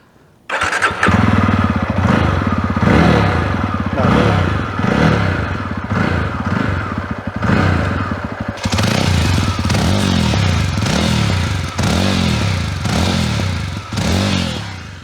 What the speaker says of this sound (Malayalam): ഇനി ഞാൻ ജസ്റ്റ് ഒന്ന് സ്റ്റാർട്ട് ചെയ്തിട്ട് ഇതിൻ്റെ എക്സോസ്റ്റ് നോട്ട് ഒന്ന് കേൾപ്പിക്കാം